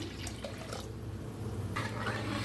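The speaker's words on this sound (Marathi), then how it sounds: "ह्याच्यात ओतूया पाणी" Water pouring into a pot of cooked dal, a brief steady splashing rush that swells slightly toward the end, close and moderately quiet, with no talking.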